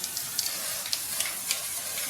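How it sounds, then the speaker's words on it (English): Lustre spray from a can mists over a cake-decorating flower mould as a soft, continuous hiss with a few faint puffs, nearby and quiet, with no talking. "I'm just going to spray this over just to give it a nice lustre effect"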